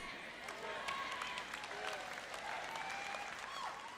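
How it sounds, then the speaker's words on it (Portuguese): Church audience clapping, a steady wash of hand claps at moderate distance with a voice speaking over it throughout. "eu posso dizer pelo som das palmas o quanto de acordo vocês estão ou não estão"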